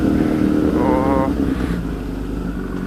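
Kawasaki Z900 motorcycle engine revving, a loud close throaty roar that rises briefly and then settles back toward idle.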